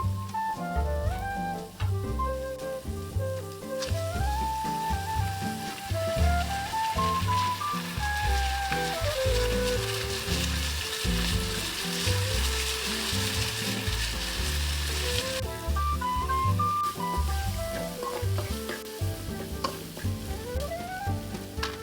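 Ginger garlic paste fries in hot oil in a pan for a village-style dry curry, giving a steady sizzle with stirring scrapes, all under continuous background music.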